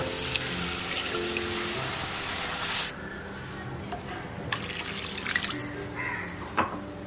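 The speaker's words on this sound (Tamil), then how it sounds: "இப்போ வந்து நம்ம 2 கப்ஸ் வாட்டர் ஆட் பண்ணிடலாம்." Running water, two cups, splashes steadily into a cooking pot, then stops abruptly, followed by a few scattered drips and light clinks.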